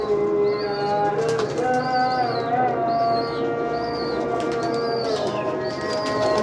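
Pigeons coo repeatedly in close, overlapping rounds among a loft of pet fancy pigeons, a steady chorus of soft throaty calls with no talk.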